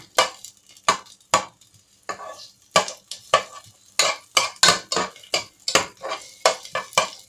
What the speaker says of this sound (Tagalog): Gisain nyo pong mabuti to. Yung magba-brown yung bawang talaga.